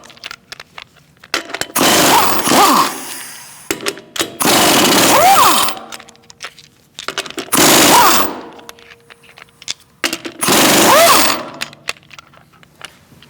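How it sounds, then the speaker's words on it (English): A pneumatic impact gun spins lug nuts off the wheel of a 2016–2019 Chevrolet Cruze, rattling in four loud, hammering bursts of a second or two each, separated by short quiet gaps. "Now we're going to remove our lug nuts."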